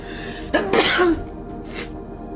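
A single sharp sneeze bursts out close by, followed by a brief quieter exhale against a low room hum.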